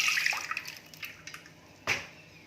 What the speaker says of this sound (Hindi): अब इनको हम छलनी से छान लेंगे।